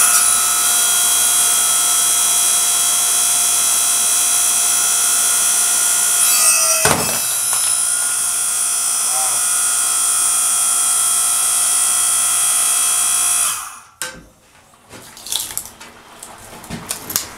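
A Harbor Freight Central Machinery 5 ton log splitter works through tough unseasoned wood, its steady motor hum running close and loud, broken by a sharp crack, then a pause and scattered knocks and creaks as the wood gives way.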